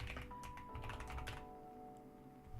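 A new computer keyboard is typed on in a quick, soft clatter of key presses that stops about halfway through, leaving only a low, quiet hum.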